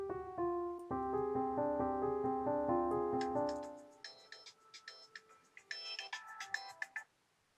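A phone ringtone melody plays for an incoming call, first as a fuller ringing phrase and then as thinner, plucky tones that trail off, moderately close.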